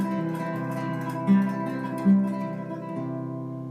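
Nylon-string guitar played with tremolo technique, a fast even shimmer carrying a mandolin-like melody over plucked bass accompaniment, close and clear with two accented notes, no talking.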